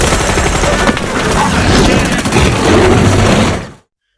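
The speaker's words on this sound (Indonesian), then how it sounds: "Tapi tiba-tiba terdengar suara tembakan." Dense gunfire from a crocodile monster film rattles in a loud, continuous volley of rapid shots and blasts that cuts off abruptly at the end.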